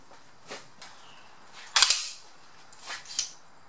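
A pneumatic nail gun driving short nails into soft cedar fence boards while building a bluebird box: one sharp, loud pop dominates, with several fainter clicks and taps around it in a quiet room.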